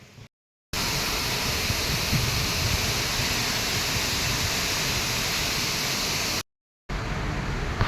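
A waterfall beside a mountain road toward Kedarnath gives a steady broad roaring rush, broken by two short silent gaps.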